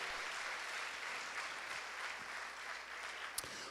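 A church congregation claps during a sermon, a steady, fairly faint wash of applause that holds evenly through the moment with no voice on top.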